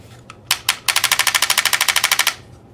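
A Tippmann A5 paintball marker fitted with an electronic grip fires close and loud: a few single shots, then a rapid, evenly spaced burst of about twenty sharp pops.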